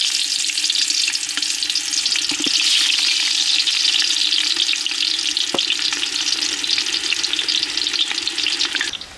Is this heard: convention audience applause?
no